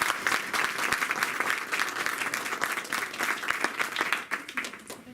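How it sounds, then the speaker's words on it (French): An audience at a lecture on the Arabic language applauds to welcome a professor: sustained, full clapping from many hands that holds steady for about five seconds and thins out at the end. "Merci d'applaudir."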